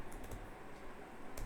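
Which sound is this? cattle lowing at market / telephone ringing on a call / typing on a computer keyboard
typing on a computer keyboard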